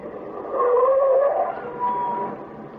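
A green car on a lonely stretch of road, staged as a radio drama sound effect: a steady engine drone with a rising, whining tone that swells and then eases, heard alone.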